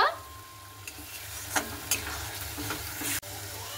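Small prawns with spices being stirred in a pan after fish water is poured in, a steady close sizzle with scrapes of the spoon at irregular moments and no talking.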